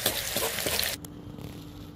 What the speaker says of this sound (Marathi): बारीक थोडंसं मध्यम गॅसवर तळायचं